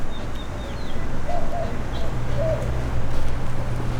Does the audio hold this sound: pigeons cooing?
yes